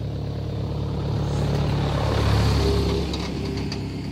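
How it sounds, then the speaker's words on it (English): A sizable truck rolls past on a road in Yuchih, Taiwan, its engine rumble swelling to a peak and then easing off as it moves away over about four seconds. "Oh, pretty sizable truck."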